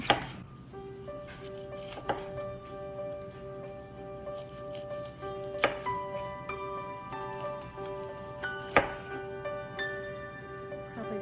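Hot peppers sliced on a cutting board for drying, the knife landing in a few sharp, separate chops over steady, tonal background music.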